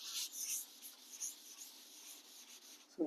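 Soft scratching strokes of writing on a board during a physics lesson, faint and hissy, ending with a brief louder knock.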